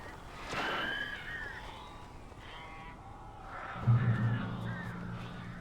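Crows caw in the video game Alan Wake Remastered, a couple of raspy calls, then a louder low bleating cry near the end, faint and set against a quiet ambient background.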